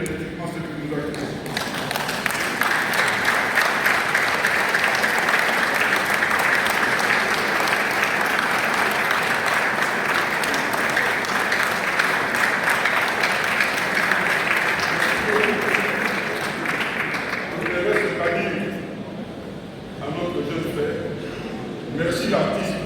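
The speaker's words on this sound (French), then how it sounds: "se mettre debout et encore une fois applaudir frénétiquement" A standing congregation applauds frantically at a memorial mass for a deceased artist, with sustained loud clapping, crowd noise and voices throughout before it tapers off near the end.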